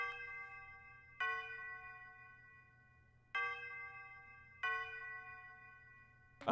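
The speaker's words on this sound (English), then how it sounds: "It's the tubular bell. You can find that in pretty much any kit." A tubular bell plays a simple two-note pattern in a beat, each bright metallic strike ringing out and decaying slowly, struck four times at uneven intervals over a low hum.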